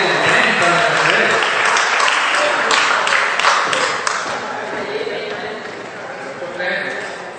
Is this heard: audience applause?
yes